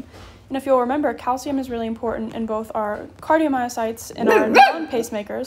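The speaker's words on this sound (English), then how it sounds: "Excuse my dog." A dog barks several times in short bursts behind a person lecturing, the barks rising sharply near the end over the ongoing talk.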